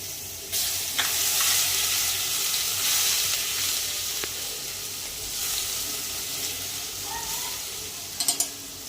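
Asafoetida and garlic sizzle in hot oil, a steady close crackling hiss with a few scrapes and faint clinks near the end.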